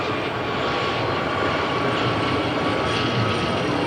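A Gazelle helicopter flying in a naval duel display, heard as a continuous loud rotor and engine roar that stays steady and broadband throughout, close and unbroken, with no voices.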